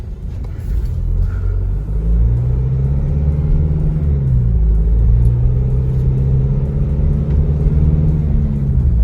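Isuzu Mu-X 1.9 diesel accelerating uphill, a loud steady interior engine drone and road rumble with pitch climbing and shifting as it pulls, no talking.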